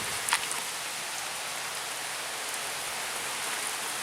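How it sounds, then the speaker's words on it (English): Heavy rain pours down steadily, a dense and continuous hiss of drops hitting surfaces nearby, with a brief patter burst near the start and no talking. "heavy rain."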